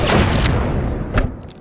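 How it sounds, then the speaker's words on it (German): A dull, booming blast from the video game Soldier of Fortune 2 followed by a second thump, loud and close, fading into a rumbling tail. "Das war die Verpuffung."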